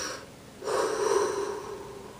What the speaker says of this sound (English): I would take a nice deep breath or two